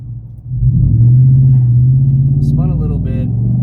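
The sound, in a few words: Ford F150 brake-boost launch, tires spinning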